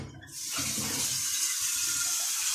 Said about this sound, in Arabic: احط له الميه السخنه